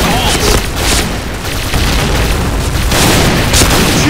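Grenade explosion in the video game Point Blank: a dense, loud, sustained roar of booming blasts and crackling bursts filling the clip, with sharper detonation peaks recurring throughout.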